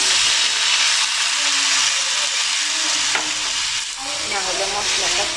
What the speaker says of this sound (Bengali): আমার এখানে মশলাটা কষানো হয়ে গেছে।